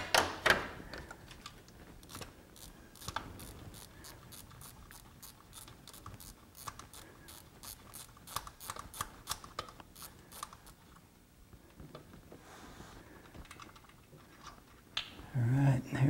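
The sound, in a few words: ratchet with extension removing VTEC solenoid bolt on Honda Civic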